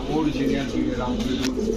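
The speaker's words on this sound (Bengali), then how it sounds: "অরিজিনাল ব্রিডের রামপুরি নর দর্শক দেখেন" A male Rampuri pigeon coos with low, rolling calls at a market selling Pakistani pigeon breeds, heard under someone talking close by.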